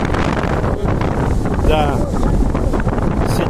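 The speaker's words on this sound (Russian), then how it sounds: "Резко похолодало и сильный ветер." Strong wind batters the microphone on the Azov Sea coast in Crimea, a loud, continuous buffeting roar with gusty swells, while a voice briefly speaks underneath.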